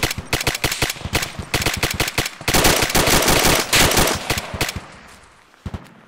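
Machine gun fire in rapid, sustained bursts of loud, close shots, with only a brief break before the firing trails off into a few scattered final rounds.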